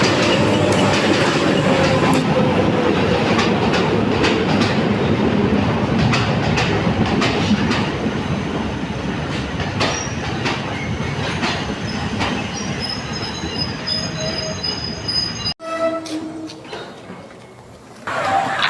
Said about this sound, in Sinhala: කෝච්චියට නැග්ගා.